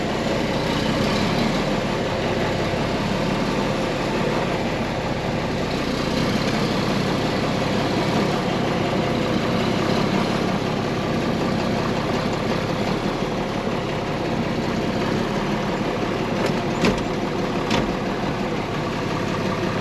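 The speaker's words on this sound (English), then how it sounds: "This is the John Deere tractor that we've been working on." A John Deere tractor's diesel engine idles steadily and loudly nearby, a constant low rumble throughout with no talking.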